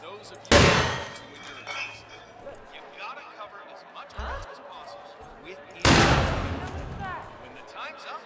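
Two loud, sharp shotgun blasts from Hitman 2, one near the start and one several seconds later, each with a ringing decay, separated by quieter game ambience and a voice talking.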